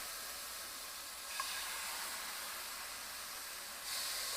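Chicken tenderloins fry in a hot pan, giving a soft, steady sizzle throughout that swells a little louder near the end, with no one talking.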